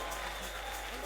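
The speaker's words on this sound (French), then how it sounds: "Come on, put your hands together. Applaudissez très fort." A church congregation applauds during a worship service, a dense, steady burst of clapping that fills the short moment, with voices mixed in underneath.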